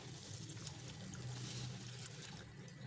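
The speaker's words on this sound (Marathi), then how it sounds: "दोन तीन पाण्याने स्वच्छ धुवून घेतली" Lentils being rinsed in water at a kitchen: a soft, continuous swishing and trickling of water, faint and close, with no speech.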